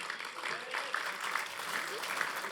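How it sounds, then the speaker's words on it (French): Studio audience at a local television awards show applauds as two performers leave the stage, a steady, moderately distant wash of clapping throughout. "vous pouvez les applaudir"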